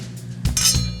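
Glasses clink together in a toast at a restaurant meal with wine, a couple of bright, close chimes ringing briefly over quiet room tone.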